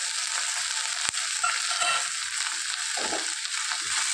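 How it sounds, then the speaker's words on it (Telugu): Green peas and carrot pieces, added to onions for coriander rice, fry in a pan with a steady hiss of sizzling oil, broken by a sharp click and a few soft scraping stirs, with no talking. "ఇప్పుడు పచ్చి బఠానీలు వేసుకుంటున్నాను, అలాగే క్యారెట్ ముక్కలు కూడా వేస్తున్నాను."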